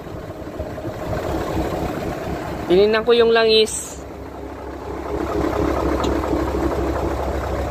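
A dump truck with an 8DC11 diesel engine idles in a yard in the rain, a low steady rumble running throughout while someone speaks briefly over it midway.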